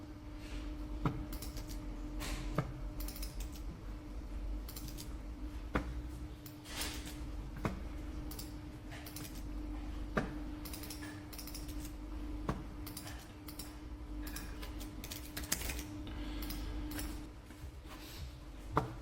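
Quiet, steady tapping of a computer keyboard as card details are typed in, with scattered sharper key clicks over a faint room hum.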